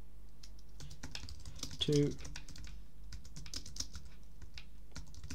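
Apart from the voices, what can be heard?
typing a prompt on a computer keyboard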